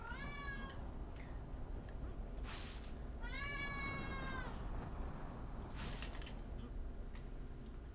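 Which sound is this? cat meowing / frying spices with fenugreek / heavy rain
cat meowing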